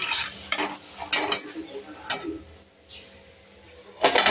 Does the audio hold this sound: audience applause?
no